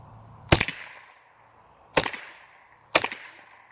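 A Savage 64-F left-hand rifle fires Armscor ammunition, three sharp, loud cracks spaced about a second apart, each followed by a short echoing decay, with no talking.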